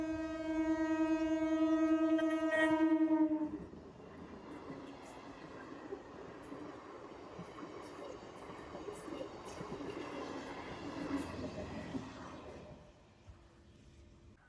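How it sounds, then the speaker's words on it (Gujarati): A train arriving at a station on a rainy day sounds a long, loud horn blast, then rolls in with a lower rumbling clatter of wagons that gradually fades. "હવે ટ્રેન આવશે"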